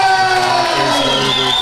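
Spectators at a British Classic Masters powerlifting championship cheer on a lifter's heavy attempt, a dense swell of shouts and whoops with sustained hollered voices rising over the hall's hubbub.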